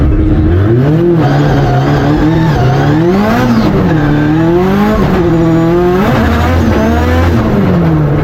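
A Nissan 180SX drift car at a drifting event revs hard, its engine pitch swooping up and down as it flicks through a run, with tire squeal layered over the loud, close engine throughout.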